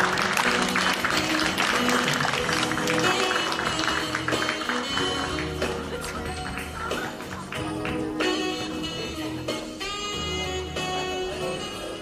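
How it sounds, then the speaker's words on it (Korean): A seated audience welcomes a guest with warm applause, dense, continuous clapping from many hands that stays loud throughout over a low background hum, with no voices standing out. "여러분 다시 한번 뜨거운 박수로 맞아주시기 바랍니다"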